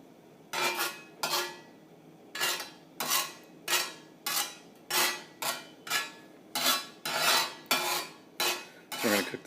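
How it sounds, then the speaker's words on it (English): A metal utensil scrapes repeatedly across a Lodge cast iron griddle spreading melting butter, making about a dozen short rasping strokes in a steady rhythm, close and clear with no talking. "As this melts, we're just going to kind of spread it around here."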